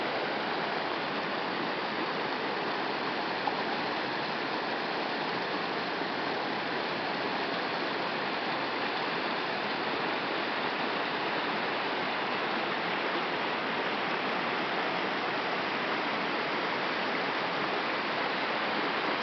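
Creek water running over the ice of a frozen backyard creek, a steady full rushing wash that stays even and close throughout with no voices.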